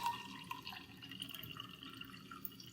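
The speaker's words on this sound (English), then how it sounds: "I'm gonna take the tap water and see if it will make some tea just from the drops" Tap water pours into a glass, a quiet close trickle with small splashes and drips running steadily for a few seconds, no talking.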